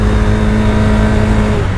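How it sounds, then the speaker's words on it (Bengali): GPX Demon GR165RR motorcycle engine revving close and loud, a steady sustained high-revving drone with a strong harmonic whine throughout and no speech. "অস্থির একটা সাউন্ড কিন্তু বাইকটার"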